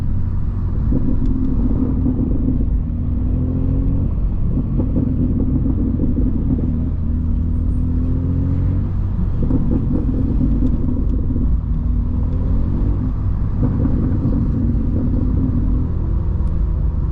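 Inside a BMW M2 at night in New York City, a repeating scraping, grinding tone from another car rises and fades in cycles over steady road noise; no voices.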